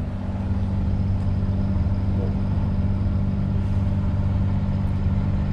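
A sailboat's auxiliary motor drones steadily at sea on a calm, windless stretch between Belle-Île and Noirmoutier, a constant low hum running alone throughout.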